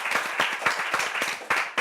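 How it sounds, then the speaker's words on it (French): An audience claps for a contestant at a Bible quiz competition, with a steady burst of near applause lasting the whole moment and a few sharper individual claps standing out. "On peut applaudir pour lui."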